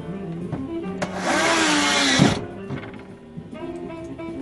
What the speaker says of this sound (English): Putting screws in, people.